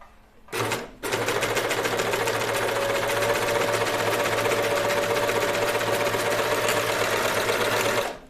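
Sewing machine stitching dress fabric: a short burst, a brief pause, then a steady, fast, loud mechanical whir and hum running evenly for several seconds before stopping.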